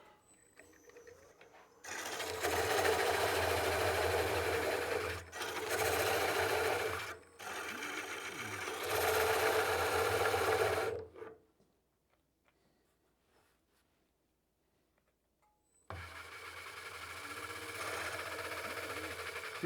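Wood lathe spinning a bowl blank while it is cored with a Oneway Easy Core system, loud steady whirring and cutting in three long bursts, a quiet pause, then the motor and cut resume.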